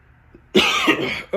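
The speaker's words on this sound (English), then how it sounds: "Sorry, cough there." A single harsh cough bursts out after a short quiet moment, followed by a second, shorter cough close to the listener.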